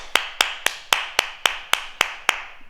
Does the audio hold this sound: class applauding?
yes